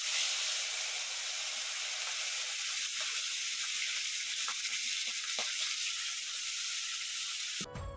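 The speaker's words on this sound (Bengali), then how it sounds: "এখন মাছ ভাজাটা করে নেব" Fish pieces rubbed with salt and turmeric fry in hot oil in a kadai, giving a steady, close sizzling hiss for several seconds with a few small crackles and a sharp disturbance at the very end.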